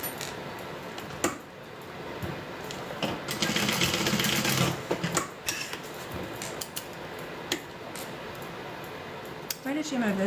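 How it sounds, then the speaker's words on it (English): A sewing machine stitches across a folded strap on a handmade wristlet, a steady whirring run in the middle of the stretch with shorter bursts around it, heard close and moderately loud while a person talks nearby. "just do a little stitch across just to secure that down"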